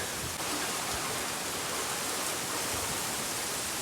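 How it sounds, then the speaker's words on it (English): Microburst winds and heavy rain from a damaging squall line thunderstorm, a loud, steady, dense roar of wind-driven rain with no break, close and all-enveloping. "We're getting hit by a microburst."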